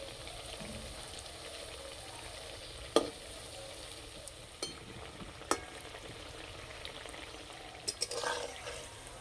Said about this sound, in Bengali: এই পিঠেগুলো ভাজার সময় আস্তে জাল দিলে হবে না, একটু মাঝারি আঁচে ভেজে নিতে হবে।